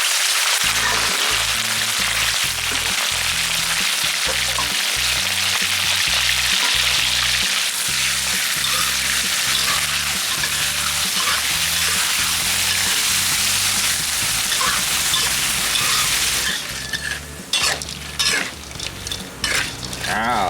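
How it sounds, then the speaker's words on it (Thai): Steady, loud sizzling of quail frying in hot oil in a pan fills the whole stretch, with some stirring and clinking; it thins and crackles more sparsely near the end as the quail crisps. "นี่แหละนี่เขาก็มาทอดนกนะครับ"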